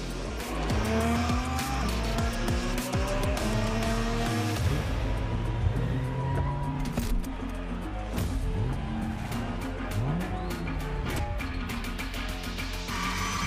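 Cars drift in The Crew Motorfest, with tires squealing and skidding continuously over roaring engines. Several long, loud screeches overlap and rise and fall in pitch.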